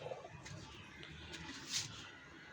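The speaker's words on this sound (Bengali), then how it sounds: "কবুতরগুলো উঠতেছে।" Pigeons stirring inside breeding cages make faint, soft cooing and light rustling, low and steady throughout with one brief brighter flutter near the end.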